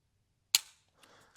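A Desert Eagle .44 Magnum pistol fires one loud, sharp close shot, followed by a fading tail and some faint handling clatter and a small click.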